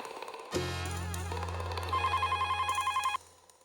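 A telephone rings loudly in a steady electronic warble, one long burst of rapid repeating tones that cuts off abruptly near the end.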